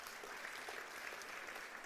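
A church congregation claps together at a worship service, the applause steady, dense and unbroken, with no talk over it.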